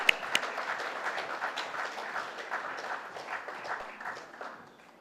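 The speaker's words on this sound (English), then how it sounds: "Can we have a huge round of applause, ladies and gentlemen, for Mr. Rajan Vadera?" Applause from an audience at an auto retail conclave's inaugural session, greeting Mr. Rajan Vadera; moderately faint, steady clapping with a few sharper claps near the start, thinning out toward the end.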